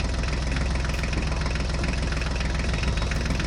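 A mini tractor engine runs at a steady idle, close and continuous, with a low rhythmic throb and mechanical vibration and no voices.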